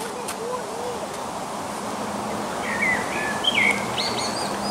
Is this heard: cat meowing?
no